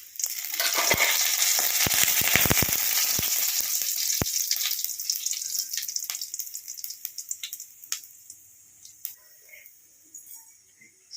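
Cinnamon, cloves and crushed fennel seeds hit hot oil with a loud, crackling sizzle that gradually dies down to scattered pops while a voice talks over it.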